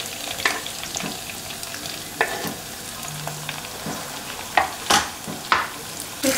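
Onions fry in a pan for a fish curry, a soft steady sizzle broken by sharp spatula scrapes and clanks against the pan, louder toward the end, close by with no talking.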